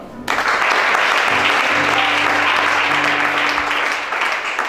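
A congregation bursts into steady, loud clapping at a church deliverance service, the applause beginning suddenly and holding dense to the end, with some voices mixed in.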